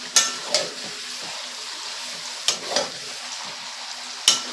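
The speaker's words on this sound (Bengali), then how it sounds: "আমি কিন্তু একসঙ্গেই মাংসের সঙ্গেই কিন্তু কষিয়ে নিচ্ছি আলুটাকে।" Village-style desi chicken frying with potatoes in oil, a soft steady sizzle punctuated by a few sharp scraping stirs of the spatula, close by.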